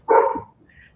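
A large dog lets out a single short, loud bark close by, then falls silent.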